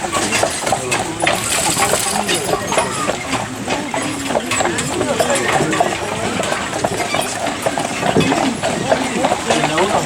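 Carriage horses clip-clop along a Mackinac Island street, hooves striking in a steady, busy rhythm that runs throughout the ride, with a person talking over them.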